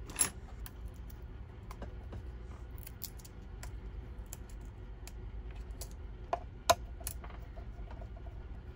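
Small screws being removed from a Sony SRS-XB33 Bluetooth speaker, a quiet string of faint metallic clicks and scraping ticks at an uneven pace over a low hum, with a couple of sharper clicks near the end.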